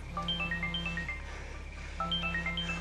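A mobile phone plays a melodic electronic ringtone, two repeated phrases of bright tones separated by a short pause, moderately loud with a low hum underneath and no speech.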